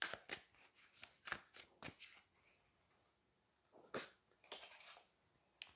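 Tarot cards are handled and drawn with a run of crisp, close shuffling snaps and flicks, a pause, then another burst of card rustles.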